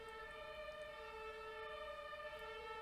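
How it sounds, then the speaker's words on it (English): A steady, sustained siren tone drones continuously and faintly, as if from a distance, with no talk over it. "Uh-oh, guys, it's the sirens."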